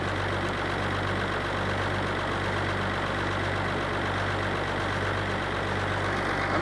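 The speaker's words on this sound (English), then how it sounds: "And the motor lopes a little." A motor idles steadily with a slight uneven lope, a continuous low rumble holding close and fairly loud throughout, with no talk over it.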